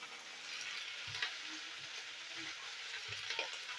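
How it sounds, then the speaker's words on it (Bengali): Salted yardlong beans fry steadily in oil, giving a continuous close crackling sizzle with soft thuds of stirring at intervals and no talking. "নুন দিয়ে বরবটিগুলো একটু ভেজে নেবো তেলের মধ্যে।"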